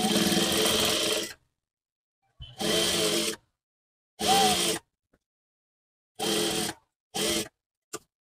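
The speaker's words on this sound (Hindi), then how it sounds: "सबसे पहले हम बाहर की साइड यहाँ पे लगा लेते हैं सिलाई और इसको पक्का कर लेते हैं।" A sewing machine stitches piping onto a kurti neckline in several short runs of steady whirring, separated by quiet pauses. The runs are close and loud, and the last one is very brief.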